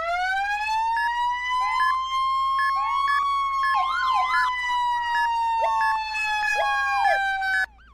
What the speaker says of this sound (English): this middle line here and this button here are all your sirens